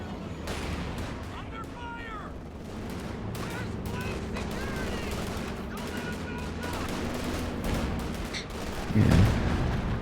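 In a multiplayer video game match, frag bombs explode amid dense gunfire and machine-gun bursts. A heavy boom lands near the end, and commentators talk over the constant shooting.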